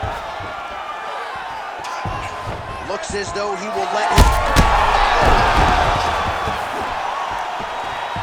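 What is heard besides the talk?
crowd reacting to strikes in video game UFC 5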